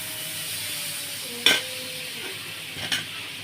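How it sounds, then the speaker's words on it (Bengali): A spoonful of butter goes into a hot pan for chicken soup, marked by two sharp metallic taps of the spoon against the pan over a faint, steady background hiss. "আমি এখানে বাটার দিচ্ছি এক চামচ"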